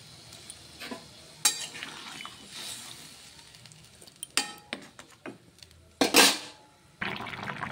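Fried fish goes into a pot of cauliflower fish curry. A spoon scrapes and clatters against the pot while the liquid sizzles softly, building to a sharp hiss partway through.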